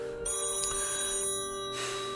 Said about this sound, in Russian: Слушай, 3-й раз звонит.